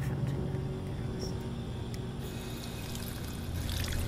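Water being drunk in the video game Fallout 4: a steady pouring, gurgling wash of liquid at moderate level, running continuously for a few seconds over low game ambience.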